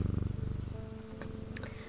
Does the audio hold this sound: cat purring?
yes